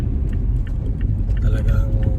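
A car on a snowy road speeds up at an intersection, its engine rumbling loud and close throughout, with a voice talking over it.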